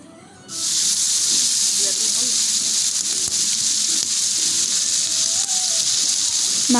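Broiler chicken pieces dropped into a hot pan of fried onions burst into a loud, continuous sizzle and hiss that starts abruptly and holds steadily, with a voice speaking faintly underneath.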